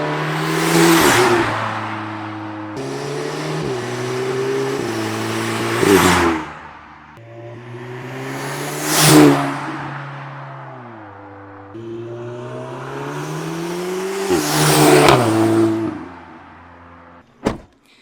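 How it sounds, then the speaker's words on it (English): An Audi S3/Golf R fitted with a loud intake mod making several drive-bys: engine notes climb as the car revs through gears, with whooshes as it passes close, then a sharp short click or pop at the end. "That's a couple of sound clips of the new intake, doing a few drive-bys and that sort of stuff."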